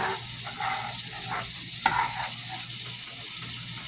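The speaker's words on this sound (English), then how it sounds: "I'm going to let this saute." Seasoned salmon sautés in a pan with a steady, close broadband sizzle, broken by a few brief stirring or utensil sounds and one sharp clink near the middle; no voices.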